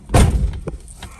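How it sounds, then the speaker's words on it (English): A car door slams shut on a once-stolen race car, giving one loud, close thud followed by faint rattles and small knocks inside the cabin. "Close the door."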